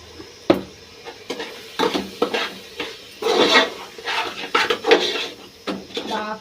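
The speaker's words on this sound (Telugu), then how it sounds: "బాగా కలిపేసి కొద్దిగా" Food being stirred and mixed in a frying pan while it cooks: irregular scraping and clinking of a spoon against the pan over a soft sizzle, close and moderately loud.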